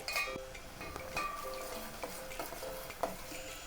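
Half-fried onions sizzling in a pan with cumin seeds, chana dal and urad dal, stirred with light repeated scrapes and clicks over a soft crackle.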